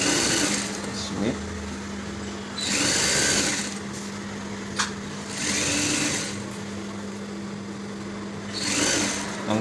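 A sewing machine stitches a waistcoat lining in several bursts, each a steady mechanical whir lasting a second or two, separated by pauses with a faint steady hum underneath; close and fairly loud.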